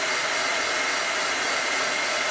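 A heat tool blows a steady, loud, airy hiss close up over a Chalk Couture chalk transfer, continuous and unbroken with no voices.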